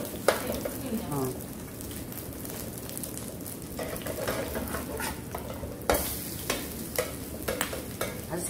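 Squid kimchi pancake batter fries in a pan with a dense, steady crackling sizzle and occasional scraping clicks from a utensil, heard up close.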